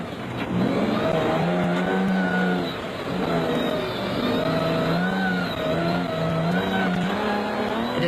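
Onboard the Castrol Toyota Land Cruiser off-road race car, the engine revs hard and continuously, rising and dropping with gear changes as it pushes through the course, loud and close with no talk.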